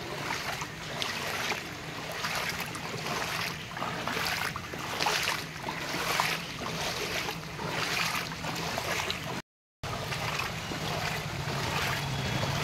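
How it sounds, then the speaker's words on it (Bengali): Legs wade through knee-deep floodwater on a flooded Kolkata street, with rhythmic swishing and splashing strides repeating steadily, close and continuous, broken once by a brief gap. "এখন মিনিমাম এইভাবে আমাকে 7-8 মিনিট ধরে জলের মধ্যে দিয়েই যেতে হবে"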